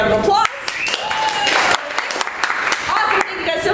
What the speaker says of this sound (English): we'll give her a nice big round of applause.